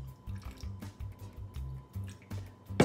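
Water poured from a container into a bowl of butterscotch candies, a close, soft splashing and dripping trickle lasting a few seconds with no talk over it.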